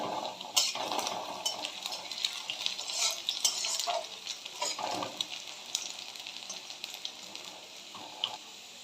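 Onions and eight-hour-marinated chicken fry in a pan with a steady, fairly quiet sizzle, broken by occasional scrapes and clinks of a stirring utensil against the metal.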